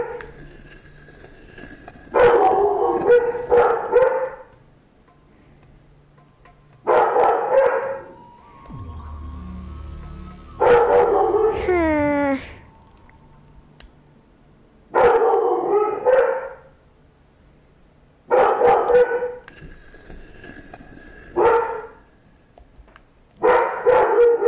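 A dog barks in repeated bursts and lets out a long rising howl partway through, loud and close, with quiet pauses between the outbursts.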